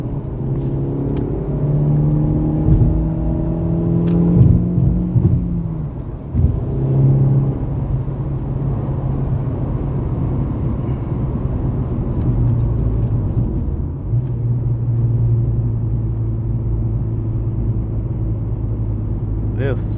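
Ford Focus fitted with twin throttle bodies accelerating through the gears, shifting into third to overtake, heard from inside the cabin as a steady engine rumble and whir that climbs in pitch, with someone talking over it.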